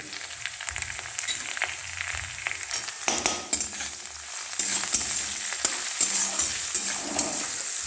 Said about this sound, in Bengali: আলুগুলো ফ্রাই হয়ে এসছে।